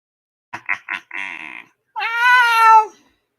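A cat meows several times, first a few short chirping calls, then a longer drawn-out meow that rises and falls, close and fairly loud with brief silences between.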